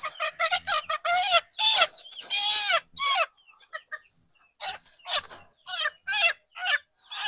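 Desi chickens newly released on a farm cluck and squawk nearby in a series of short, uneven bursts, with a brief lull in the middle.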